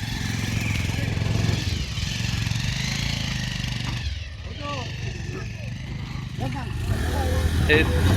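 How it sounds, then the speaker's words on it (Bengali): A ferry boat engine at full power drones loudly and steadily, dips briefly, then surges back up, with voices speaking over the running engine. "ইঞ্জিনের যত শক্তি আছে সব দিয়েই চেষ্টা করা হচ্ছে"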